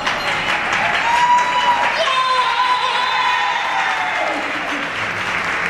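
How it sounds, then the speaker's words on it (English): A women's chamber of commerce gathering in New York, 2011, bursts into dense, sustained audience applause with some crowd voices mixed in. "You can clap."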